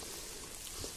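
Heavy rain pouring down outdoors during a metal-detecting outing, a dense, steady hiss of water with no breaks, close and fairly quiet throughout.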